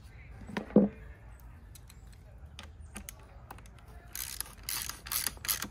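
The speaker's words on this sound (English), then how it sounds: "Put our rusty screws back." A ratchet drives rusty screws back into a 2005 MINI Cooper S R52, making faint, close mechanical clicking in scattered bursts with one sharper knock early and a denser rattle near the end.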